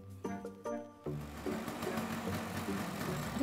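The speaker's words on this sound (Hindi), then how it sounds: "सुन देख तेरे पापा की स्कूटर की आवाज।" A scooter engine approaches with a fast, rattling putter that grows steadily busier and louder. A brief tonal chime comes just before it.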